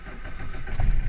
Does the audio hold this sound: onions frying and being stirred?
no